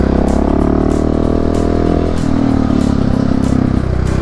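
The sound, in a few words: KTM SMC690 motorcycle engine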